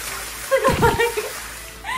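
Someone steps into a Japanese hot spring bath with yellow-tinted water and a hinoki cypress tub, making a short, close splash and slosh in the middle of an otherwise quiet moment. A faint tone follows near the end.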